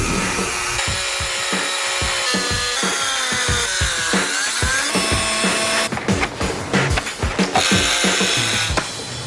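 Power tool cutting into a steel safe with concrete lining, a harsh continuous grinding whine with sharp rasping bursts toward the end, loud and close with no talk.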